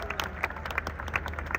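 Audience applause at the IIFA awards show in Jaipur, a steady wash of scattered clapping with brief louder bursts, moderately faint and continuing throughout without speech.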